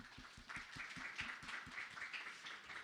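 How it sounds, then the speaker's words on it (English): Audience applause at a public talk and open conversation held in Europe House, a quiet, steady patter of many hands clapping that holds evenly for the whole stretch, distant and faint, with no voices. "hopefully you heard our applause"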